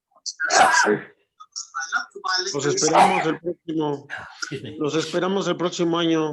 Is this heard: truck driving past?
no